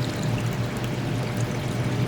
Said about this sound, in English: Get some more fresh water in here.